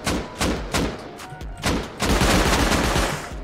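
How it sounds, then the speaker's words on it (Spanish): Rapid bursts of gunfire at a turret in the video game Rust, several separate shots followed by a sustained volley, loud and close, with no speech. "Vale, disparo yo también a la torreta."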